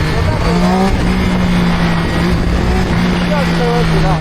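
A ZXMOTO 820RR sport motorcycle engine holds a steady, loud drone that swells slightly as the throttle is opened, with someone talking over it throughout.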